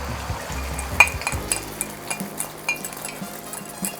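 An egg fries in a GUSTO nitrided Chinese wok while a metal spatula stirs and scrapes, with sharp clinks against the steel over a steady low sizzle.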